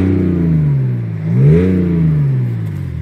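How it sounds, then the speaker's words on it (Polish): A BMW X5 M50d diesel engine idles with a deep, burbling exhaust, rising briefly in a quick rev midway before settling back to a steady low rumble. "jak ten silnik pracuje, jak ten wydech bulgocze"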